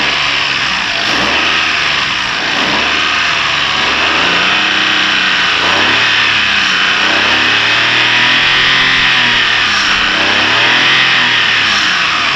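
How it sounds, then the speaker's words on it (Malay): Perodua Viva, Kenari or Kelisa engine running after a timing belt and water pump replacement, a loud steady hum with smooth rising and falling engine tone, close up and without talk. "So kita tengok bunyi pun enjin senyap, ya."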